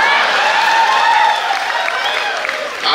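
Audience applause at a comedy poetry gathering during a festival in Pune, a dense, steady wash of clapping from a crowd that continues loudly through the whole moment before swelling again at the end.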